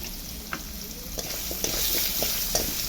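Potatoes with salt and turmeric frying in a pan, a continuous close sizzle that grows slightly louder, broken by occasional scrapes and knocks of stirring, with no voice over it.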